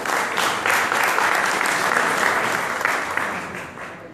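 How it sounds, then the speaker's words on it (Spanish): Sustained applause from an audience at a book presentation, a dense, steady wash of clapping that holds loud for about four seconds and then begins to fade. "Entonces recibamos un aplauso a Pacho Velázquez."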